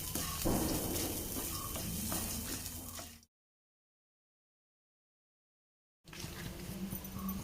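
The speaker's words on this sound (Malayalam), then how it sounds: "നമുക്ക് തേങ്ങയൊന്ന് റോസ്റ്റ് ചെയ്തെടുക്കാം" Grated coconut roasting in a pan for sambar crackles with a soft, steady sizzle and scraping stirs, cutting out to complete silence midway before the frying resumes.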